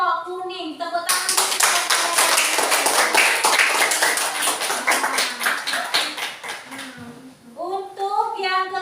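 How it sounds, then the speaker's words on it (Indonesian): Classroom clapping from a group of schoolchildren, a dense burst of rapid hand claps lasting several seconds, bracketed by a teacher and children speaking before and after. "Tepuk tangan."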